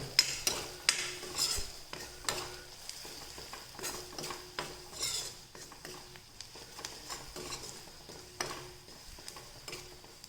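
A spoon scrapes and clinks in a pan as Kashmiri chilli powder and salt are stirred into frying spices, producing irregular metallic taps and scrapes over a faint sizzle.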